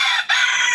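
A rooster crows in one loud, close, continuous call, bred for cockfighting as a white botcher cross with a high-action black line, with a brief dip in the middle and no talk over it.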